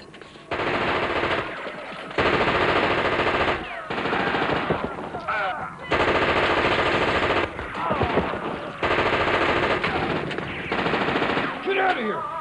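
Bursts of automatic rifle fire crackle through a US crime action film, long sustained volleys broken by short pauses, loud and close, with scattered impacts and effects between the bursts.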